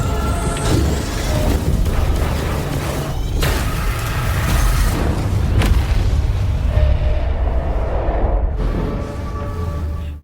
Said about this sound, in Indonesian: Meriam itu pun langsung ditembakkan sehingga menimbulkan ledakan besar yang juga merusak bangunan sekitarnya.